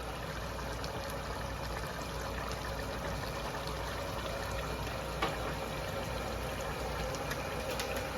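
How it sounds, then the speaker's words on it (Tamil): Maggi coconut milk trickles into a simmering shark curry, a soft, steady pouring and bubbling wash over a low background hum, with no voices. "தேங்காய் பால், மேகி தேங்காய் பால் போட போகிறேன்"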